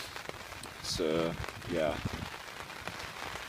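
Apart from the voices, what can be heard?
rain falling on a tarp while hammock camping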